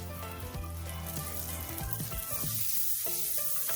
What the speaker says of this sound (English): So put some butter on it. Okay. And then melt it.